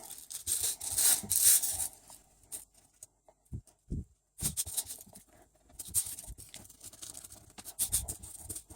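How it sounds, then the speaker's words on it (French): The edges of a seashell are scraped by hand, giving faint, intermittent rasping and rubbing strokes in short bursts separated by quiet pauses. "Ce que je vais venir faire, ça va être juste de gratter les bords, en fait."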